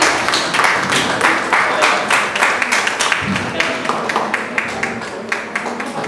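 Audience clapping in a hall during a book launch event, a dense, steady round of applause with some individual sharper claps standing out, fairly loud and close throughout.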